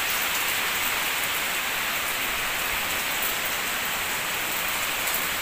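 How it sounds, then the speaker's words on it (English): Heavy typhoon rain pours down in a steady, dense hiss, loud and unbroken throughout, with no voices. "it rains so hard right now"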